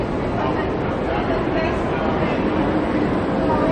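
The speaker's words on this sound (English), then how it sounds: "The tilt train is coming into Platform 10" A Queensland Rail tilt train rolls into Platform 10 at a city station, a steady broadband rumble of wheels and carriages close by, with faint crowd chatter from people on the platform.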